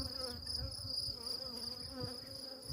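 Honeybees at a hive buzz in a steady high drone as they start to attack the beekeeper, quiet and continuous, with faint rustling below.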